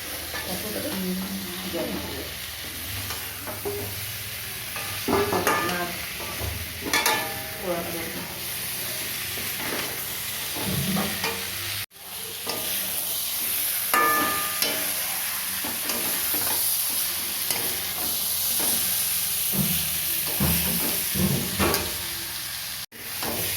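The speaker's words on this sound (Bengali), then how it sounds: "ফুলকপি আলু ভেজে রাখা হয়েছে, দিয়ে দিলাম, একটুখানি মশলার সাথে কষিয়ে নেবো।" Fried cauliflower and potato being stirred with spices in a pan, a steady sizzle under repeated scraping and stirring strokes, close and fairly loud throughout with a brief break partway through; someone talks intermittently.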